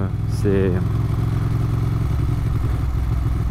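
Low-speed engine note of a 1994 Ducati 900 Supersport motorcycle, a steady near rumble throughout with a brief clatter and whir early on, while a rider's voice talks over it.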